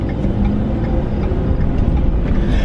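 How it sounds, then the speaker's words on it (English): Road traffic from cars driving past, a steady broadband rumble of engines and tyres that holds at a constant, fairly loud level throughout with no single pass standing out. "I like the sounds of the world, you know, cars driving by."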